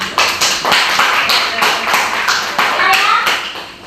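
A classroom of students claps in a burst of uneven, close handclaps that fade out after a few seconds, with some murmured voices mixed in.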